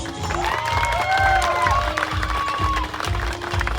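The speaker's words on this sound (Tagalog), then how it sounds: "gusto ko malakas yung palakpakan pagpasok ng ating couple" Wedding guests applaud as the couple makes their entrance, a sustained wash of crowd clapping and cheering under music with a rhythmic low beat, plus scattered voices.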